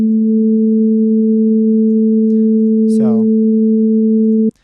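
Two steady synthesizer sine tones sound together at a loud, even level, interrupted by a brief chirping blip partway through, before both cut off abruptly.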